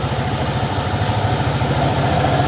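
A motorcycle engine, just back from a CVT service, runs steadily with an even, throbbing low pulse, close by and unchanging, with no voices.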